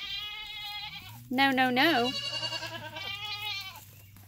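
A mother goat on a homestead bleats repeatedly for her kid, a loud quavering call followed by shorter rhythmic bleats nearby, with a person speaking briefly over it.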